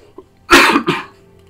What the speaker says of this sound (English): Just seem to keep on having this cough.